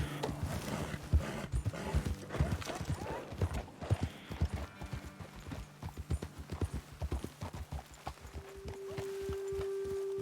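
Horse hooves clip-clopping in Red Dead Redemption 2, a steady walking rhythm of close, clear hoofbeats, with a brief snort or whinny partway through and a low hum toward the end.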